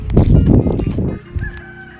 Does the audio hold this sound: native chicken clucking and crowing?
yes